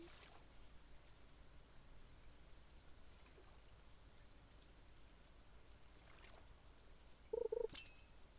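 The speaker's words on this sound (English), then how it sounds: "on days like this where it's raining, I mean, that's just take a moment to listen to the ambient sound of the game while I'm fishing" Soft, steady rain ambience from the Stardew Valley video game during fishing, a faint continuous patter with a brief brighter sound near the end.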